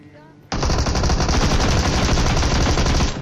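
Video game gunfire erupts suddenly after a brief moment of talk, a loud, dense, continuous burst of rapid automatic shots that fills the rest of the moment.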